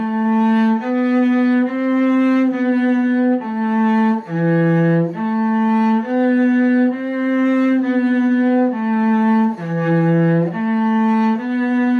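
Solo cello bows the first line of a Suzuki positioning etude in fourth position, long even notes of about a second each with brief dips between bow changes, loud and close with no talking.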